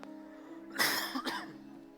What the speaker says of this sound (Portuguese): Tô com essa tosse chata hoje